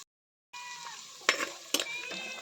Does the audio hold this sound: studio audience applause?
no